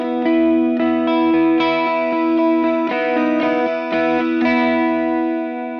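Electric guitar strumming open chords through a DOD Ice Box chorus pedal, bright shimmering sustained chords with a few restrikes, loud and close, no voices.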